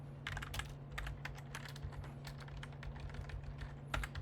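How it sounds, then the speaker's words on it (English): Fast clicks of someone typing code on a computer keyboard, tapping in quick irregular bursts with short pauses over a low steady hum, close by and fairly quiet, with no talking. "Let me just finish typing."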